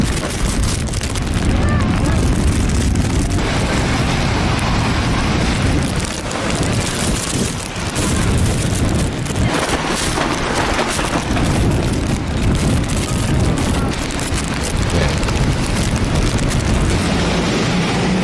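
Strong gusting wind in a rainstorm buffets the microphone with loud, rumbling roars that rise and fall in bursts throughout, harsh and close, with brief lulls between gusts.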